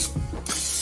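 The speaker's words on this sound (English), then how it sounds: "spray it with a non-stick cooking spray" A short burst of non-stick cooking spray hisses steadily onto a muffin pan after a brief moment of quiet handling noise, close by.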